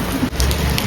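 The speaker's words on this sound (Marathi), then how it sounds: "बघू शकतात इथे तुम्हाला बरोबर दिसेल की पाऊस किती आहे." Rain falls heavily and close by, a loud, dense, steady patter of drops on surfaces with no voices.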